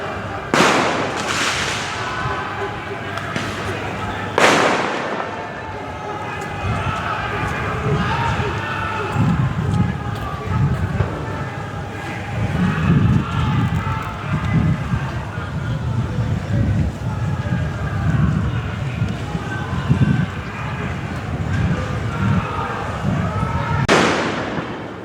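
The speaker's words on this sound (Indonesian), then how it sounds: "Oh, petasan lagi-lagi" Firecrackers burst at a tense night street protest outside the Mako Brimob gate on Jalan Kwitang, Jakarta, sharp loud bangs near the start and end over a dense crowd din with people talking.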